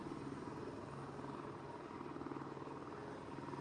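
A video-game helicopter flies close by, its steady rotor chop and engine drone loud and continuous, with no talk over it.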